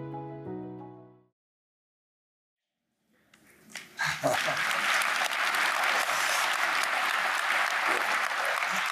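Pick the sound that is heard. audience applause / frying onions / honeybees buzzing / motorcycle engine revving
audience applause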